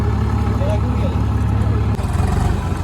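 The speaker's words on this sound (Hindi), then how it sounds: "रास्ता बना रहा है भाई ट्रैक्टर" A tractor engine chugs steadily at close range while clearing a path through deep offroad mud and water, a low rumbling drone that continues without a break and shifts slightly near the end.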